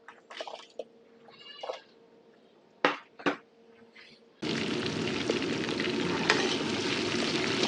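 Small onions hit hot oil, breaking into a loud, steady sizzle partway through for tamarind curry with okra, after a stretch of quiet clatter and a few short sharp knocks.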